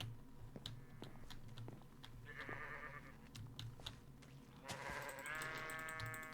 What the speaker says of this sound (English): Those sheep are everywhere.